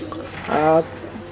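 A single short coo from a German Beauty pigeon at a pigeon farm sounds close by, a soft throaty murmur against a quiet background.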